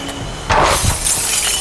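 Glass bottles shatter during loading at a recycling collection centre, a sharp loud crash followed by a spread of tinkling shards and rattling debris.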